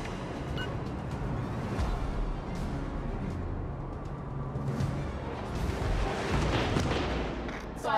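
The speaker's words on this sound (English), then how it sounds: "Concentrate fire on the enemy warship to sink them!" Warship guns fire continuously in the World of Warships: Legends naval battle game, a dense rumbling barrage of booms and explosions with no talk, swelling louder toward the end.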